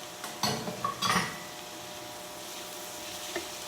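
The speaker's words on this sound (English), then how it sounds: "I'm gonna stir those right in." A utensil clinks against a pan as baby bella mushrooms are stirred in. A couple of close scraping, clattering bursts come early and then fade to a quiet background.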